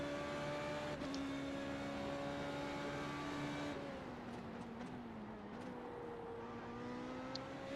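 Formula Renault 3.5 race car in iRacing at Imola, a steady high-pitched engine drone holding near-constant revs, with brief dips and shifts, fairly faint and without talking.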